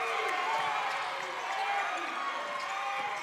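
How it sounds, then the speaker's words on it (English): Indoor crowd noise fills the West Banco Arena at a men's college basketball game, Fairmont State against Frostburg State, a steady, dense roar of voices and movement that holds at an even level throughout. "The crowd noise picks up inside the West Banco Arena."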